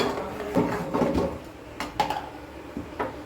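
Hot sweet pongal is stirred in a pot, giving a series of close, irregular scraping and knocking clanks of a spoon against the metal vessel.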